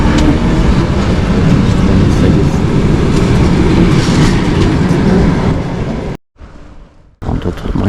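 An electric commuter train at Kosterevo station rumbles loudly past the platform with a steady rolling clatter of wagons for several seconds, then cuts out briefly before the noise resumes.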